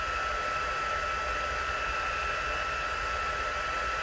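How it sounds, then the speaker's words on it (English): A heat tool blows steadily while melting white embossing powder, a constant hairdryer-like hiss and fan roar at even loudness, no voices. "now I'm going to bring in my heat tool and a little bit of noise"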